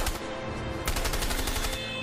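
Rapid bursts of gunfire from the video game A Way Out, a dense, fast string of close, sharp shots with no one speaking.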